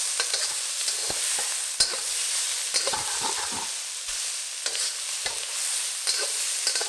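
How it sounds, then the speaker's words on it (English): Prawns stir-fried with garlic, spring onions and chilies in a hot pan, a continuous sizzle broken by repeated scraping stirs and tossing clatters, close and with no talk. "Toss in the prawns with the aromatics."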